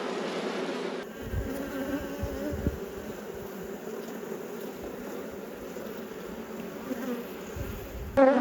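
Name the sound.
honey bees buzzing on a hive frame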